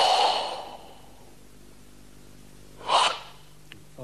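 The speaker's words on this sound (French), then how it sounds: "Dans le kata sanshin, la respiration sonore, à l'inspiration comme à l'expiration, permet de vérifier si l'exécutant effectue correctement ces techniques." Loud breath exhalations during an Okinawan karate sanshin kata: a strong breathy rush at the start, a quiet pause, then a second forceful breath near the end, with no talking.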